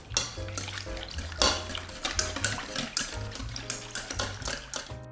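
Separated egg yolks and milk are stirred in a bowl for homemade ice cream, giving a quick run of light, rhythmic clinks and scrapes of utensil against the bowl over steady background music.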